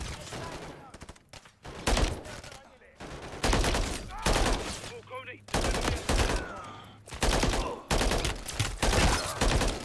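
Heavy gunfire erupts in a Call of Duty: Modern Warfare III battle among shops, with loud repeated bursts and bangs in irregular waves and someone speaking between them.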